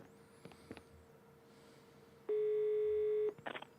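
Telephone dialing and ringback tones from a call placed in the Murder on the Orient Express video game: a couple of short beeps, then one long steady tone, followed by brief electronic blips.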